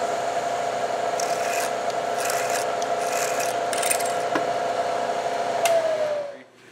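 A milling machine drills holes with a quarter-inch drill bit, giving a steady high whine with rasping bursts as the bit cuts, then winding down at the end with no talk.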